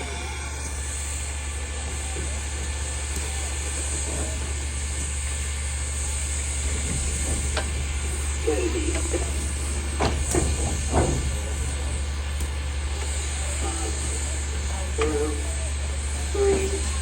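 Southern Railway 4501 steam locomotive sitting on a turntable releases a steady, unbroken steam hiss over a low hum, with occasional faint knocks and distant murmuring voices.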